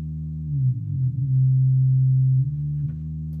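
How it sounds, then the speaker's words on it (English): Simple synthesized sine-wave bass notes hum low and clean, one sustained tone gliding into another with small pitch bends. "We have a simple sine wave for the low end."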